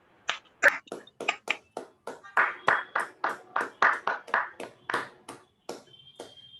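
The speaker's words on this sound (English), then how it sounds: "So I request everyone kindly give a big round of applause for every guest." A sparse handful of people clap in short bursts for guests at a hybrid Toastmasters meeting at a business school, the claps distinct and spaced, roughly a dozen strikes, fairly close and moderately quiet with no crowd roar.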